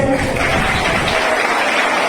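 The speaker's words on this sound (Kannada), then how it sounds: "ಅವರು ಜೋರ ಚಪ್ಪಾಳೆ ಬಿಡಿ" Students fill a hall with loud, continuous applause, a dense wash of clapping that holds steady throughout.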